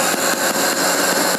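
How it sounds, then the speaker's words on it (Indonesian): A tuned car engine with a launch control module is held at raised throttle, giving a steady, loud, close mid-pitched drone with slight pulsing and no talk. "Ini gas kita naikkan sedikit"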